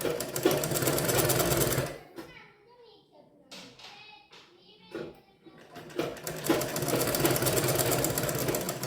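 A sewing machine stitches a blouse in two loud, rapid runs of whirring clatter at the start and end, with a quieter pause between where a voice talks and small handling clicks sound.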